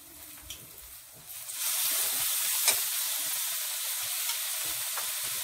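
Finely chopped, deseeded tomatoes drop into a hot kadhai while making paneer bhurji. A brief quiet opening gives way to a sudden, loud, steady sizzle and hiss that carries on to the end, with no talk.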